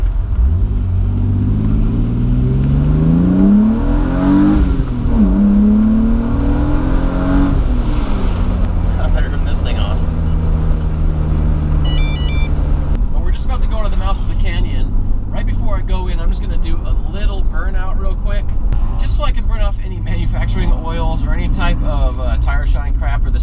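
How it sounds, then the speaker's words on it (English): A car drives twisty canyon roads, pushing its tires to the grip limit and sliding, with a loud steady engine drone that rises and falls through the gears while someone talks over it nearly throughout. "I'm gonna test the grip limits of the tires first, and then after that, we're gonna do a few slides"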